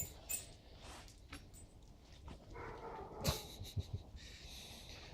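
A dog snorts and breathes heavily nearby, sniffing around with soft huffs and a few brief clicks in an otherwise quiet room where a Philco Predicta television is being restored.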